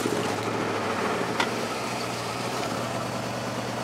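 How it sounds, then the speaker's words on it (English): A Ford F-150 truck fitted with a swapped engine idles steadily and close by, giving a low, even mechanical hum with a faint tick, and nobody speaks. "You really can't tell it ever had an engine put in it by the way it starts."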